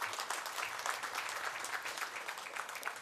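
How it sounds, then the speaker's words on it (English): An audience at an income tax office inauguration ceremony in Nagercoil breaks into steady, dense applause that carries on evenly for a few seconds with no voices over it. "Let us show our appreciation with a big round of applause."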